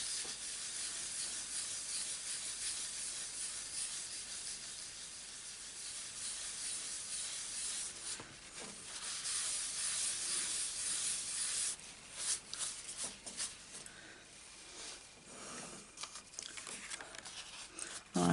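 Tissue rubbed over ink on card, a soft steady papery hiss and scrub lasting throughout, close and quiet, with brief scuffing bursts toward the end.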